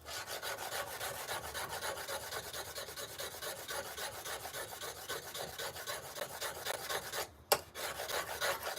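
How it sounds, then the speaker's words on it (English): A stone-carving chisel being sharpened, heard as a steady rasping, rubbing stroke repeated continuously and close, with one brief louder knock near the end and no talking. "So I like to keep this chisel really sharp."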